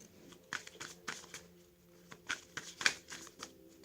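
Playing or tarot cards being shuffled and flicked by hand, a quick series of crisp riffling bursts and soft slaps, close and clear with no talking.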